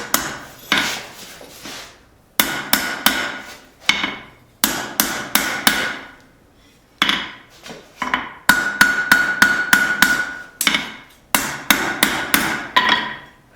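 A hammer forges a fillet knife blade on an anvil in bursts of sharp ringing metallic blows, several strikes per burst with short pauses between, loud and close with no talking.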